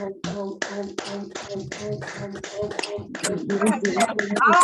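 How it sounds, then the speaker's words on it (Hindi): Rhythmic hand clapping during a group om chant, with steady claps under sustained voices chanting together. "ओम ओम का उच्चारण करते हुए ताली वादन करना है"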